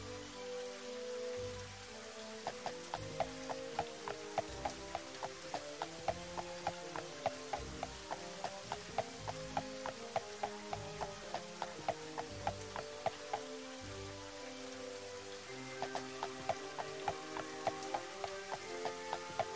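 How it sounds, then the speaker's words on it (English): Steady rain falls over the town of Charway in the video game Daggerfall Unity, a dense continuous patter broken by sharp, regular clip-clop hoofbeats, with no talking. "It's always raining in Charway."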